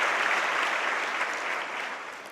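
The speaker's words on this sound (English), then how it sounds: "A big round of applause" An audience gives a round of applause at an evening Navaratri celebration, a dense, steady wash of clapping that fills the room and tapers slightly toward the end.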